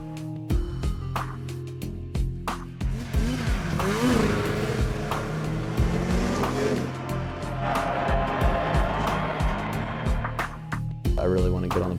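Snowmobile engines race at a snocross event held indoors at the Pontiac Silverdome, with loud, continuous revving and whining sleds that rise and fall throughout, busy crowd-like noise underneath and a few sharp clacks near the end.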